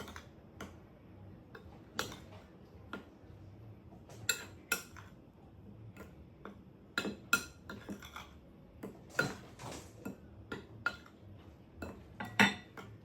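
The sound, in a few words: mixing ingredients together with a spoon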